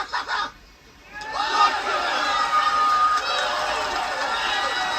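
A crowd in a scene from the TV show The Boys erupts into loud cheering and shouting after a short quiet lull, sustained and dense, with excited voices mixed in.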